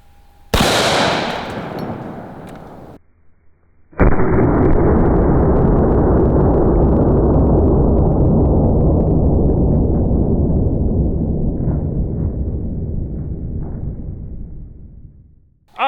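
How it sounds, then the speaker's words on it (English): A .50 AE Desert Eagle pistol fired at a watermelon outdoors: one sharp, loud shot followed a few seconds later by a long, roaring burst that slowly fades away. "Let's see which one gives us a better watermelon explosion."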